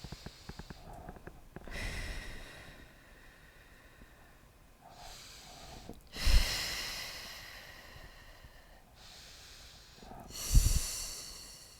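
Slow, deliberate exhalations during a pilates session, three or four long breathy rushes spaced a few seconds apart, with a couple of sharper, louder puffs, close and alone with no talk.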